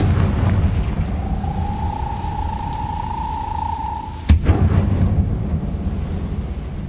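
In Hogwarts Legacy, the Confringo blasting spell charges with a sustained whine and then bursts in a single sharp, close explosion, leaving a low rumbling tail over steady background noise.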